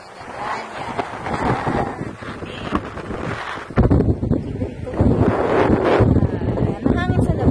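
Wind buffets the microphone outdoors at a beach resort, a loud, gusty rumble that swells midway, while people talk underneath.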